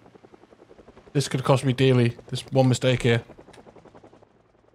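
In the Project Zomboid video game, a helicopter flies overhead as a steady, pulsing low rotor thrum that runs under a man's speech.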